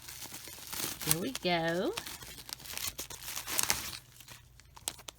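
A mail package being opened, with close paper and plastic crinkling and a sharp tear, while a person talks briefly over the handling.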